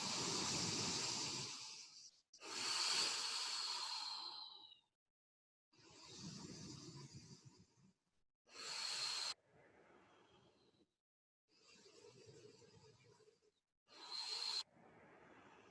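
Deep diaphragmatic yoga breathing, slow loud inhales and exhales with hissing airflow, several breaths in a row separated by short silent pauses, close to the microphone.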